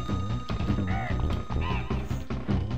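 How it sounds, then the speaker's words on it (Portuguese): Squawking bird enemy in Donkey Kong Country, a few loud harsh cries rising over busy game music and sound effects. "Esse passarinho vai ficar cada vez mais chato."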